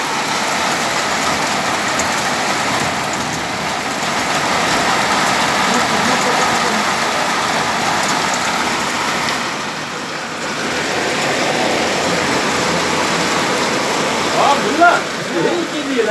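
Heavy stormy night rain in Riyadh roars steadily, dense and close, with a broad wash of water noise throughout and faint voices underneath.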